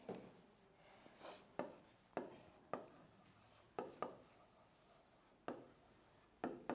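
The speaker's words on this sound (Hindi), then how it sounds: "एक दोबारा इसकी स्पेलिंग लिखेंगे" Someone writes out a spelling by hand, likely chalk on a board in a biology class, with a series of sharp strokes and taps at irregular intervals, close and moderately quiet with no talking.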